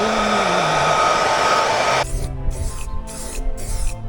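A spray gun applies the first coat of blue paint to a Pilgrim Sumo AC Cobra replica kit car body, a steady loud hiss for about two seconds, then several short spurts separated by gaps over a low hum.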